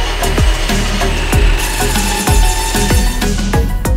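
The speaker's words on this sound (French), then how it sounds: "On scie avec nos scies à câble, que vous voyez là" Diamond wire saw, motor-driven diamond-beaded cable, cutting through concrete during a demolition for a tram line. The grinding is loud and continuous, with sweeping surges that repeat roughly every half second.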